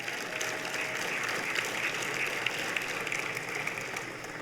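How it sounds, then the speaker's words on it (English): An audience applauds championship teams at a university athletics hall of fame induction ceremony in a hall, with sustained, even clapping from a sizable crowd heard at moderate distance throughout. "Give them all one more round of applause."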